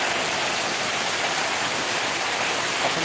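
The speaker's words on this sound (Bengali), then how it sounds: "এই বৃষ্টির মধ্যে নামাটাই তো রিস্ক নামলেই ভিজে যাবে" Heavy downpour pouring steadily, a dense, loud hiss of rain that fills the whole moment without letup, with no voices.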